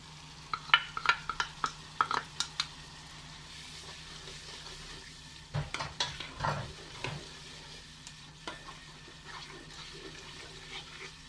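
Spiced masala for prawn biryani stirred in a pan, with a spoon scraping and tapping in quick clusters over a soft frying sizzle, close by, pausing briefly before a second run of stirring.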